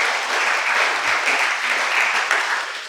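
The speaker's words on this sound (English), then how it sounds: "Please give yourself a big round of applause." Audience applause at a civil rights lecture series event, a dense, even wash of many hands clapping at close range, steady for a few seconds before tapering slightly at the end.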